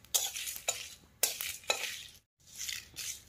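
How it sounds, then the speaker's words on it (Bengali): Fennel, cumin, coriander and five-spice seeds dry-roasting in a dry pan make bursts of rattling, scraping stirs with a light crackle, stopping briefly before one more stirring run, close and fairly quiet with no voices. "এখন সবগুলো একটু লাল করে ভেজে নেব শুকনো খোলায়।"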